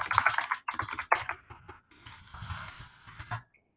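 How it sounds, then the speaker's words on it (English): Keys clatter in quick irregular bursts on a computer keyboard while an answer is typed into an online reading activity, close and fairly quiet, with short pauses between runs of clicks. "type my answer."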